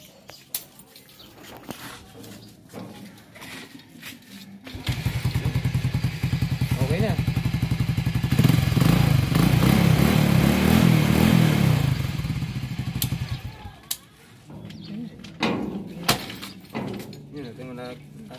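A Kia CD5 motorcycle engine starts at about five seconds and runs loudly with a steady low idle, rising for a few seconds before cutting out near thirteen seconds. Quieter clatter and brief talk surround the engine sound.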